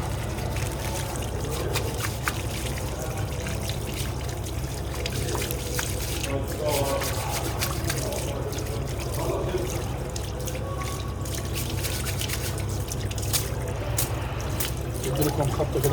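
Tap water runs steadily while a stainless steel butcher's glove is rinsed, a continuous trickle and splash with scattered clinks, and someone talks over it throughout.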